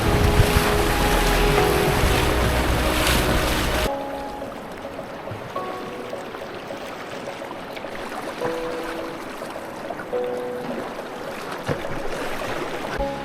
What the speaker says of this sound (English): Well, we just got done running Burnt Hills. It was a lot of fun. Some decent sized waves in there